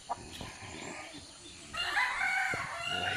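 A rooster, a five-time derby-winning Ormoc Gold gamecock, crows inside a home kitchen, one drawn-out crow rising partway through, moderately loud and close over a steady background hum.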